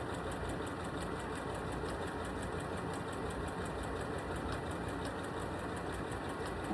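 A sewing machine stitching quilting fabric under a quilting foot, running as a steady, continuous rapid whir with a fine regular ticking, close and uninterrupted, with no voices.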